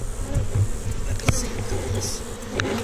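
Honey bees in an open hive being relocated hum in a dense, steady buzz close by, with individual bees whirring past and a few light knocks.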